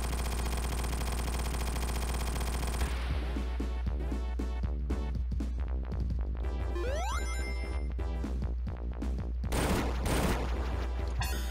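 Bombs explode in the Sonic Origins video game, a dense, loud barrage of rapid blasts over a constant electronic hum, with a falling whistle partway through and a heavier burst near the end.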